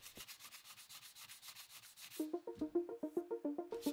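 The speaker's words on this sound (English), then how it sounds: "You can totally do this by hand, but a sander makes quick work of it." Sanding scuffs dried spackle off an old painted wooden door or trim, with quick rhythmic rubbing strokes, close and moderately loud, turning more tonal and squeaky partway through.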